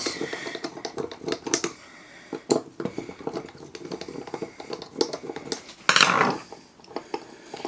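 Screws being undone from a Suzuki A100 carburetor during disassembly: a busy run of small metallic clinks, scrapes and ticks close up, with a louder rattling clatter near the end, no talking.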